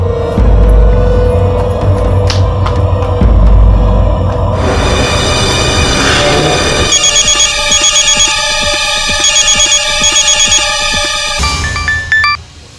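An electronic phone ringtone plays in a repeating melodic pattern, loud and close, over low background hum, then cuts off near the end.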